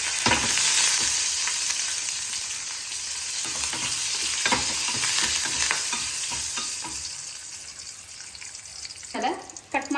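Dry red chillies, asafoetida and curry leaves crackle and sizzle in hot oil, a steady frying hiss broken by repeated scrapes and stirring strokes of a spoon in the pan, close up and without talk.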